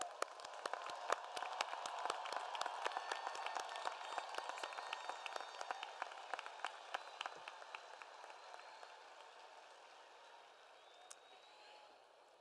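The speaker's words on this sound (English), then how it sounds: "Let's give our graduates a huge round of applause for their accomplishment." A crowd at a college engineering commencement applauds the graduates, many hands clapping at once, steady and fairly distant, slowly thinning out toward the end.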